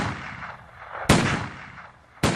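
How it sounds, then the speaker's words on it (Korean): Two sharp gunshots crack a second apart, loud and echoing, with a rumbling tail after each. "농장 쪽에서 축포처럼 엄숙하게 터지는 총소리가 들려왔다."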